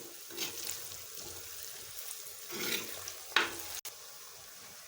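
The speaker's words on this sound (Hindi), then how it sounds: "इसमें लहसुन शामिल कर लेंगे और इनको अच्छी तरह हम भून लेंगे।" Garlic sizzles softly in a pan for a potato shorba, with a few scraping stirs of a utensil and a light clack, close by and fairly quiet, with no talk.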